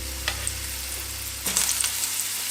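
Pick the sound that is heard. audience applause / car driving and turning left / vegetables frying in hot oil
vegetables frying in hot oil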